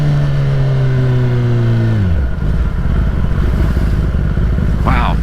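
A 2021 Kawasaki ZX-10 sportbike with a flashed ECU runs up close. Its engine note holds, then sags and drops away, giving way to rough wind and road roar.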